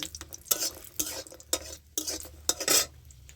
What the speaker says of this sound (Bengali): বড়ির মধ্যে তেলটা দিয়ে বড়িটা লাল করে ভেজে নেব